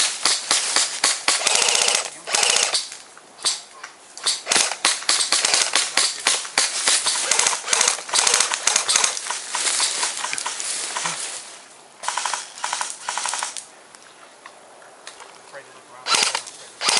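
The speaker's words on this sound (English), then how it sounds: "Incoming fire." Rapid bursts of gunfire from a zombie shooter video game crackle in dense volleys, with short pauses between clusters and occasional voices over the shooting.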